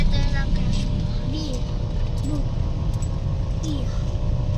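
Steady road traffic rumbles throughout with cars passing nearby, a continuous low engine drone plus a few horn-like tones, while people chat in Tagalog in the foreground.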